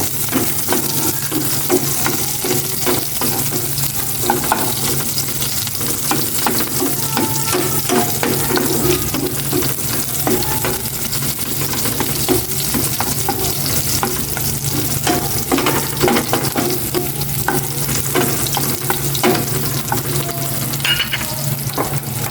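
Onions fry and get stirred in a pan, a steady loud sizzle running the whole time with repeated scraping and clinking strokes from the utensil, no voices.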